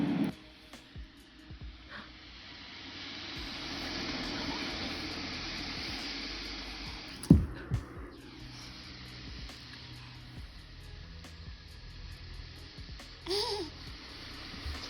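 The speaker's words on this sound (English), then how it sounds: "So this one just sounds kind of like the ocean." Baby sound machine plays a soft, steady ocean-wave hiss at low volume. A couple of brief clicks and faint background noises sit over it, and there is no speech.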